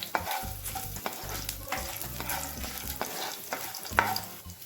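Freshly minced garlic sizzles in a pan while a spoon stirs it, with repeated scraping and clanking strokes over a steady low fry, close and fairly quiet with no talking.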